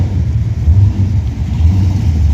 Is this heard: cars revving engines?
yes